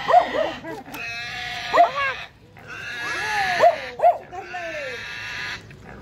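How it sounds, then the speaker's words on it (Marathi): A captured pig squeals and grunts in repeated high, strained bursts close by, with people talking over and between the cries. "कसलं डुक्कर आहे?"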